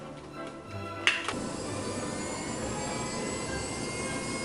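A cordless Dremel rotary tool used for acrylic nail work whirs with a steady high-pitched whine close by, after a couple of brief clicks near the start.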